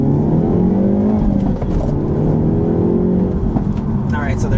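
A 2024 Hyundai Elantra N with a manual gearbox revs its engine in Rally sound mode, giving a loud, steady growl that rises and falls slightly, heard from inside the car with a little background noise.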